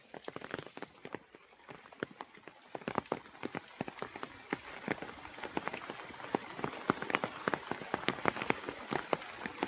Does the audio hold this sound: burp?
no